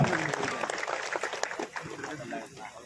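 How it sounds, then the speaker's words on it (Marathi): Crowd applause at a political felicitation gathering in Jawali taluka, Maharashtra, welcoming a newly appointed minister; steady clapping fills the clip, fading slightly toward the end. "सर्वांनी टाळ्या वाजवून त्यांचं सरचं स्वागत करा"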